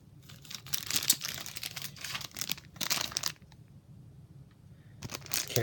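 Close, crisp crinkling and rustling of a plastic bag during a Nintendo Switch Joy-Con unboxing, in several handling bursts with a short quiet gap before the rustling resumes.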